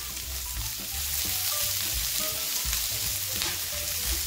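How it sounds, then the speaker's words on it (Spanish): Onion sizzles steadily in a frying pan over lowered heat, a soft continuous crackle with occasional scraping stirs, quiet and close. "Y ahora en la misma sartén, bajamos un poquito el fuego y vamos a echar la cebolla"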